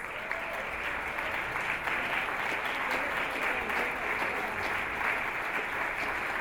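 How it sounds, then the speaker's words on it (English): A standing audience at the Bermuda Union of Teachers centenary gala gives sustained applause for its leaders. The dense, steady clapping fills the hall without a break and holds an even level throughout. "join me in standing as we give all our leaders a round of applause for their dedication and service to the Bermuda Union of Teachers."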